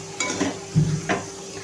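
A utensil knocks and scrapes a few times against a pan while leftover masala is stirred into stuffed bitter gourds, brief close clatters over a low steady hum.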